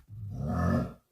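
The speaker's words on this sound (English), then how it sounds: "Let's import the zombie sound." A zombie grunt sound effect from Call of Duty, a single deep, rough, drawn-out growl lasting about a second, loud and close with nothing else behind it.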